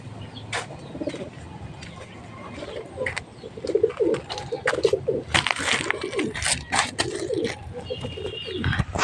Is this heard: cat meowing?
no